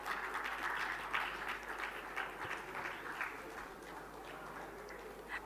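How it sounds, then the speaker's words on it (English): An audience at the 19th IFI Summit applauds in a conference hall, a steady, dense patter of clapping that fills the whole stretch at moderate volume. "let's give them all a huge round of applause"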